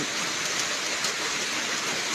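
Steady rain falls in a rural setting on a cool day, a dense, even hiss of drops at constant loudness throughout, with no voices.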